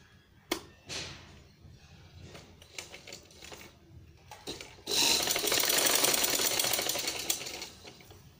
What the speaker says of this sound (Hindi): हम एक यहाँ पे एक सीधी सिलाई लगा देंगे यहाँ पे